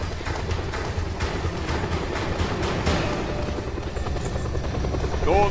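Steady thudding rotor drone of a helicopter in the game Just Cause 2, loud and continuous, with rumbling action noise and faint voices mixed in.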